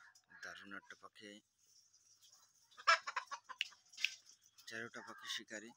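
A white-breasted waterhen, kept as a trained hunting decoy bird for sale, gives a few sharp calls between bursts of nearby speech.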